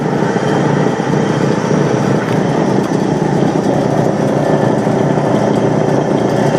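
A homemade drum sander spins with a slight wobble, built for sanding the inside of a round porthole window; a steady, loud motor whir with a continuous rough hum runs unbroken throughout, no voices.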